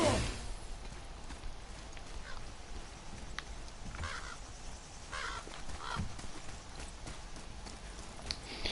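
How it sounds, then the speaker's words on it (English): A raven in the video game God of War gives a few faint, scattered caws against quiet ambient background noise and occasional soft clatter. "I hear a raven."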